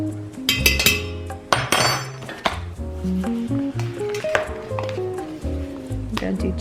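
Metal spoon clinking against a container and cup while heaping tablespoons of chaga powder are scooped for a superfood coffee latte, several sharp bright taps over a low musical background.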